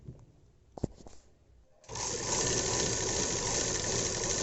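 A sewing machine runs steadily, stitching folded sleeves of a box pleated dress, starting after a few faint clicks and handling sounds and continuing as a continuous close whir.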